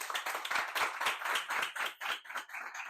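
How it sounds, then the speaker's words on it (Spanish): A live audience at a branding talk breaks into sustained applause for a speaker being introduced, a dense, even patter of many hands clapping at moderate distance, with no speech over it. "Un aplauso para Andy Stallman."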